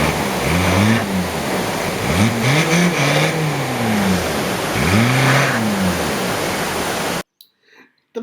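A passenger vehicle stuck in water on a high mountain pass revs its engine in several rising and falling bursts over rushing water. It is loud and close, then cuts off abruptly near the end.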